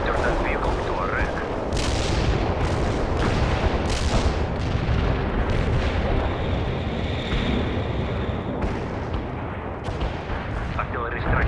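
Artillery barrage from World in Conflict, a dense continuous rumble of heavy shelling with rolling booms and noisy crackle across the whole stretch, with voices and radio chatter mixed in.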